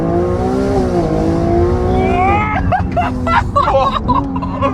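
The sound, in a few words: Ferrari 296 engine revving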